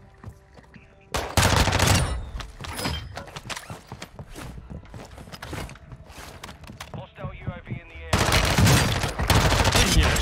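Shotgun blasts in Warzone 2 during a close-range fight, several loud booming shots in quick succession alongside other gunfire and game effects.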